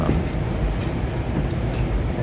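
An inbound Hudson Line commuter train expressing through 125th Street in New York passes close by as a loud, steady rumble with rushing wheel noise.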